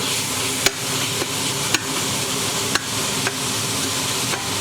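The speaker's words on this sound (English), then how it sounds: "Okay, we stir one more time." Bolognese sauce sizzles steadily in a pan while a utensil stirs it, with a few sharp taps of the spoon against the pan at regular intervals over the constant frying hiss.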